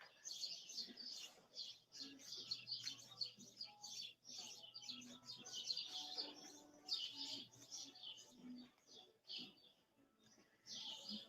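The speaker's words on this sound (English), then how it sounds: "Birds are insane." Birds chirping outdoors near a garden or pool deck, with rapid bursts of high tweets repeating throughout over quiet background and a faint low hum.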